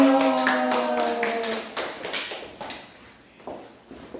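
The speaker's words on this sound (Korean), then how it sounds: "우리 나오실 때 할렐루야로 박수로 환영하겠습니다" A church congregation claps to welcome a visiting pastor, a short burst of scattered applause that thins into a few separate claps and taps, with a brief tonal sung or spoken note at the start.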